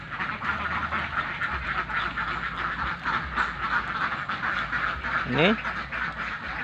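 About a hundred free-range village ducks out in a rice field keep up a dense, continuous chorus of quacking, with one rising call standing out. Someone speaks over the flock.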